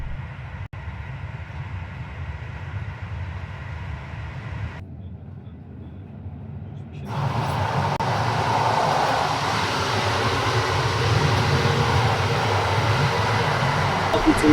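Inside a moving PKP InterCity train carriage in Poland, a steady rumbling hum of wheels and ventilation fills the space, growing louder and brighter partway through as a door seems to open to a noisier section.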